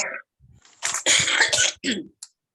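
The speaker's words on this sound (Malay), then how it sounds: "Maaf saya batuk ni." A few harsh, bursty coughs in quick succession, close to the listener, with brief pauses between them.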